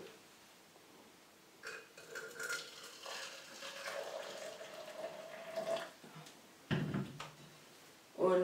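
About 200 ml of water poured into a pot of fleece cloths for homemade baby wipes: a soft, steady splashing pour lasting a few seconds, followed by a couple of brief knocks and handling sounds, with no talking.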